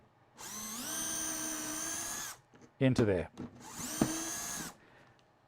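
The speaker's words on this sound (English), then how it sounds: "we're going to drill a hole straight down" Power drill boring a hole straight down through a Kreg PARF guide during a Kreg K5 mount setup, two loud sustained whines of about two seconds each separated by a brief spoken phrase.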